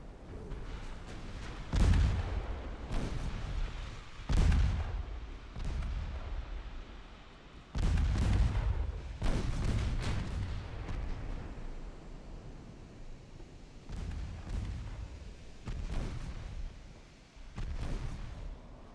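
Torpedo hits exploding against warships in a 1904 naval battle at Gibraltar in a strategy game, deep booming blasts arriving every few seconds, each rolling off into a low rumble and then fading.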